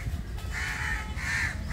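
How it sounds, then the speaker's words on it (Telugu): Crows in a roadside park in Hyderabad caw in short repeated bursts, several calls rising over a steady background of traffic and outdoor hum, moderately near and fairly clear. "ఓ మొత్తం అరుస్తున్నాయి, దేనికి వేస్తున్నాయి రా నాయన గిన్నెగనం కాకులు"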